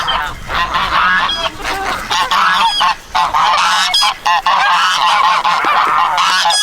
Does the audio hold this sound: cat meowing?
no